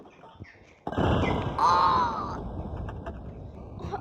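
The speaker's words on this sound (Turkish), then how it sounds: "Dışarıda kuşlar kavga ediyor." A crow gives a single harsh caw at moderate distance, preceded by a dull thump, with faint background noise around it.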